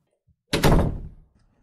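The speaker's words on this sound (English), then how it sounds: "Just close the door behind you, okay?" A door shuts with a single solid, close thunk that rings out briefly and fades, otherwise quiet around it.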